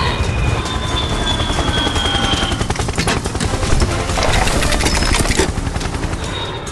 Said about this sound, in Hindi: हवा में लाल हेलीकॉप्टर गूंज